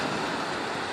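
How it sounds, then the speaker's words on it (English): Surf washes steadily against a Newfoundland beach at Topsail Beach on an overcast day, a broad, continuous roar of water and wind with no distinct breaks. "You can hear the water in the background."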